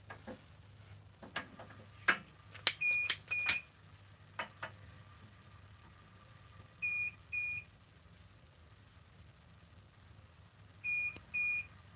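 A gas stove that is not getting any gas beeps in short bursts of electronic tones, with scattered ticks and clicks around them. The beeps repeat twice, several seconds apart, in a quiet room with no voices.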